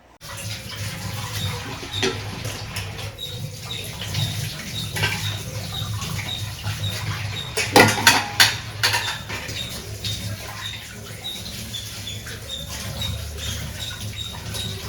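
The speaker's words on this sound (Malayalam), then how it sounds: "അങ്ങനെ അതിന് പാത്രം കഴുകലൊക്കെ തുടങ്ങിയിട്ടുണ്ട്." Dishes washed by hand in a kitchen, with running water patter, scrubbing and rubbing, and a brief burst of clattering vessels midway, close up and without speech.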